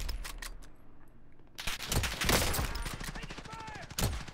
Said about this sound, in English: Where the fuck is he even shooting me from, bro?